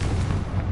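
A Confringo blasting spell from Hogwarts Legacy bursts in a short, dense, low explosive rumble that stays loud and continuous for under a second.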